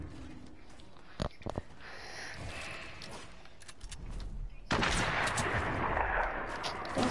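Gunfire in a video game, a few sharp shots early on, then a loud burst of heavy firing and explosive rumble that continues to the end, with faint sounds of movement between.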